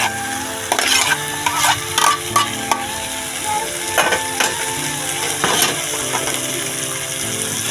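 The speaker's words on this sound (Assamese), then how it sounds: "এতিয়া আপোনাৰ এবাৰ লৰাই দিম।" Taro and potatoes fry in a pan, a fish and taro-stem dish, while a utensil stirs them in a run of scraping, clattering strokes over a steady sizzle, close and fairly loud, with no talking.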